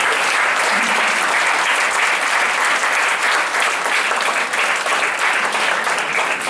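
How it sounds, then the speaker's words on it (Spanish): A church congregation gives sustained applause, a thick, even roar of many hands clapping at close range that stays loud throughout with no break. "Denle un aplauso a Dios en esta vez"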